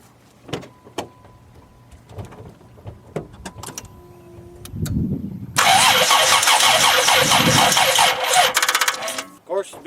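A 1991 Dodge Caravan with a fuel pressure fault is cranked after sitting overnight: faint clicks and low mechanical rumbles, then a loud, sustained whirring burst that stops abruptly near the end, with some talk around it.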